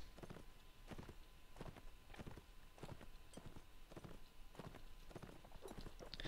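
Horse hooves clip-clop in rapid, repeated bursts during a Mount & Blade Warband battle, a steady galloping rhythm of several horses at moderate distance, with no talk over it.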